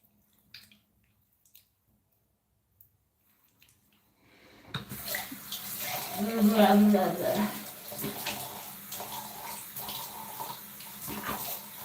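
After a few seconds of near silence, a tap opens and cold water runs steadily, splashing into a basin nearby, with faint voice-like sounds mixed in.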